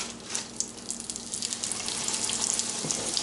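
Katsu burger patties frying in hot oil, giving a steady, close hiss of sizzling with small crackling pops running throughout.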